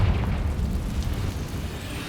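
A Confringo spell blast in Hogwarts Legacy lands as a deep, rumbling boom that rolls on for about two seconds, loud and low at the start before slowly fading.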